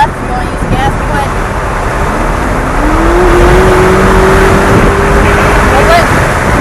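A McLaren 570S at a race track, its engine droning steadily and rising in pitch as it accelerates, heard from inside the car with continuous road and wind roar and a person talking over it.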